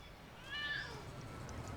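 A cat meows in the LEGO City Undercover video game, one short rising call with game ambience underneath.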